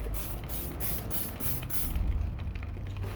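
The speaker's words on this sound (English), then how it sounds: "The water spray." Pulsing bursts of water spraying onto rusty rear brakes of a Honda Ridgeline hiss in a steady rhythm, about six short sprays followed by a more continuous spray, close and fairly loud.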